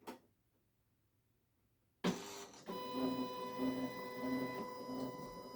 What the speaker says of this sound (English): Now you want to hold it for 3 seconds for the machine to power on.